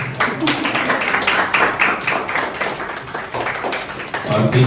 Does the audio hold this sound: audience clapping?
yes